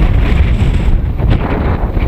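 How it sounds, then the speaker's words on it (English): Strong gusty wind buffeting a microphone on a high, exposed flying site in gusts well over 20 mph, a steady loud roar with surging rumble and no speech. "20 odd mile an hour winds today"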